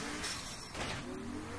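Engine of a car being driven in Saints Row 3 hums steadily and close for a moment, with a brief rising surge of revving and faint tire noise.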